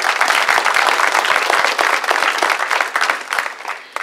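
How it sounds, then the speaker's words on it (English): Loud, sustained applause from a dinner crowd at an awards event, dense clapping for about four seconds before thinning out at the end. "let's give all of them a round of applause"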